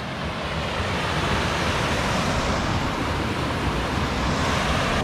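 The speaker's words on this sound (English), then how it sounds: "We're at the waterfalls." Waterfalls and rapids in Massasauga Provincial Park give off a steady, loud, broadband roar of rushing water that holds constant for the whole stretch, with no voices over it.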